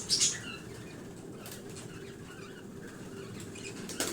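Caged birds released and flying off: a quick burst of wing flapping at the start, then quieter fluttering and faint rustles against a low background, no voices.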